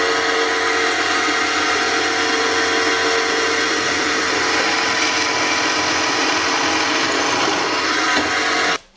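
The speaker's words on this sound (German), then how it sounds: "Also einfach easy bohren" A power drill bores an 8 mm hole for a drilling jig, a loud, steady, close whine that holds for several seconds, then cuts off abruptly at the end.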